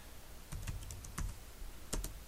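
Typing on a computer keyboard, a few quick clusters of crisp key clicks close up, with short pauses between bursts.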